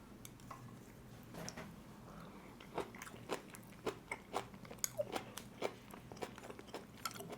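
Close, crisp crunching bites and chewing of kimchi, irregular and fairly quiet, with small clicks and snaps over a faint background.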